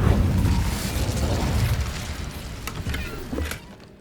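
A fire spell goes off in Hogwarts Legacy with a loud, heavy whooshing roar that fills the opening seconds, then tails off into softer rumbling crackle and a few brief pops before fading out.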